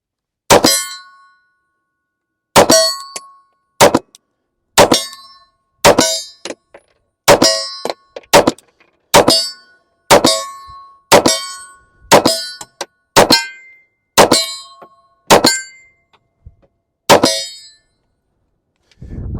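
A Taurus 58 .380 pistol fires repeatedly at a steel plate, each shot striking with a loud ringing clang that decays quickly; about fifteen evenly spaced impacts arrive roughly one second apart.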